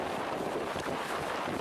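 Strong wind and crashing waves at Chaweng Beach on Koh Samui form a constant loud roaring rush, with heavy wind buffeting the microphone throughout.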